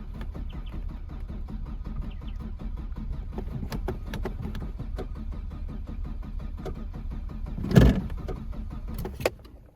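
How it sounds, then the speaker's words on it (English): An old fuel-injected farm car engine, a Saab 900 or Subaru Brat, cranks steadily on the starter with a loud, continuous churning drone close by, ending in a brief surge near the end. "Oh, it's cranking."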